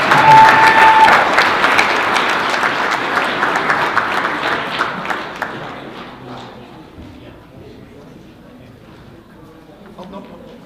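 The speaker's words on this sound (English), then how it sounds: "So how about a nice round of applause for our two coaches." Applause from an audience at a school board meeting, honoring two county coaches of the year, starts loud and dense with a few cheers, then thins and fades toward a scattered patter by the end.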